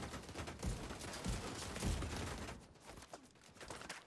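In The Division 2, rapid rifle fire from a shooter video game plays as dense, crackling bursts of gunshots. They are loud and continuous for a few seconds, then die down to quieter shots.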